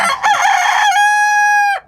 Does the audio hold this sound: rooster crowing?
yes